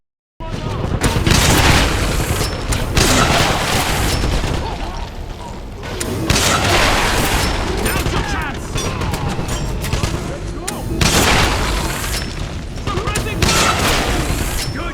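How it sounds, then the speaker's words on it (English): Sci-fi particle weapon fire from the LF-44 in Wolfenstein (2009), heavy booming blasts and bursts of gunfire in repeated loud volleys with short lulls, dense game combat noise throughout. "it shoots out an AoE explosion of death particles"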